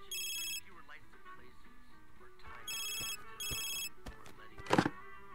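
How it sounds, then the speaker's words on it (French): Bursts of a telephone ringing in a living room in the video game Jim's Nightmare, several repeated rings with gaps between them, heard clearly over low background tones and a sharp knock near the end. "On va déjà aller répondre à ce téléphone qui est en train de sonner dans le salon."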